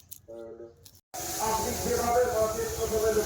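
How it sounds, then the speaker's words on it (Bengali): After a brief spoken remark, a loud, continuous hissing sizzle rises as peas, beans and kohlrabi hit hot oil on a village clay stove. "তাহলে ভাজা হচ্ছে"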